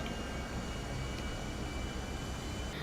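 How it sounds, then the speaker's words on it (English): A massive plane flying in GTA 5, a steady, loud, broadband jet roar that holds constant throughout with no voices. "I'm going to follow them in this massive plane"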